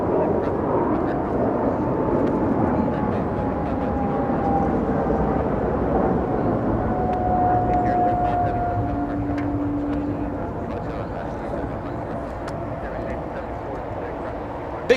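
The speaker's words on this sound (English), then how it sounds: "China Airlines flying to the nation of Taiwan. 777-300, a departure right next to us." A China Airlines Boeing 777-300 departs Los Angeles International Airport close by, its engines a loud, steady broadband roar with a rising whine held through the whole stretch.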